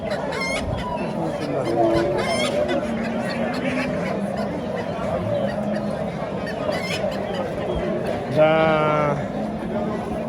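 A busy poultry market in Tashkent with chickens clucking, goslings present and a rooster-like crow among honking geese, while people talk nearby throughout.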